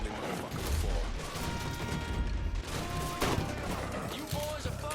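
Sustained gunfire in the video game Mafia III, dense rapid bursts filling the whole stretch with loud low booms and crackle, mixed with game music and effects.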